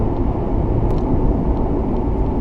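A 1994 Ford Mustang GT's 5-liter pushrod V8 cruises in traffic, its steady low rumble droning continuously and close throughout with no break.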